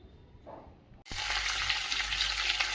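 Tempering spices, lentils and dried red chillies hit hot oil for nalleru chutney. After a quiet moment a loud, sudden sizzle erupts and keeps hissing and crackling steadily up close.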